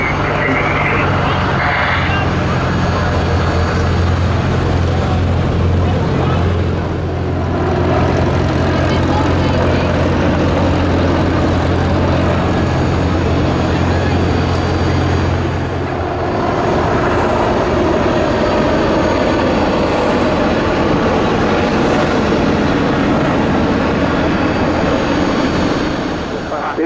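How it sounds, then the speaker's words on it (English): An Apache attack helicopter flies a display at the Duxford summer airshow, its loud, throbbing rotor and engine drone rising and falling as it passes, with commentary spoken over it throughout. "The Apache cruises at 140 miles per hour"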